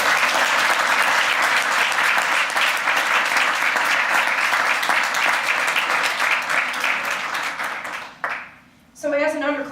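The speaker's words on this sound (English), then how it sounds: "So I would like to give him a round of applause for all of his hard work." A large audience gives a sustained round of applause at an anniversary speech event, thick continuous clapping that fades out near the end before a voice begins speaking.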